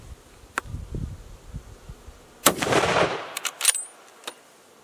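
.270 centerfire rifle fires a single sharp shot midway through, with a short rolling echo, set against a quiet outdoor background with faint insect buzzing.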